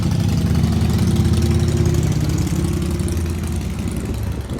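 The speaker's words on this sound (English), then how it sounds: "sorry about the motorcycles." Motorcycles rumbling past outside a hotel or condominium: a heavy, low engine drone that stays loud and close, then slowly eases off as they move away, with no one talking.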